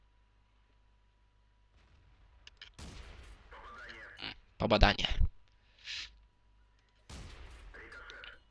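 Tank cannon shots in World of Tanks boom in a few sharp bursts with metallic impact clicks, including a ricochet, while someone speaks quietly in Polish between them.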